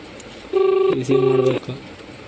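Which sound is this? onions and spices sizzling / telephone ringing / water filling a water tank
telephone ringing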